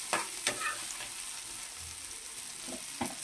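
Eggplant frying in a pan with homemade coconut chili powder gives a soft, steady sizzle, broken by a few sharp scraping clicks of stirring near the start and end, quiet and close with no talking.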